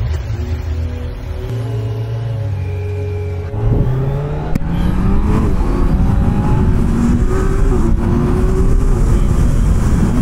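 A 2025 Kawasaki Z900 motorcycle engine runs at the Circuit du Luc race track, a steady drone that swells louder midway and then climbs in pitch as it revs and accelerates, close and continuous.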